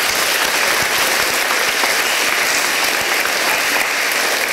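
Dense, steady audience applause at a talk, loud and continuous from start to end with no voices over it.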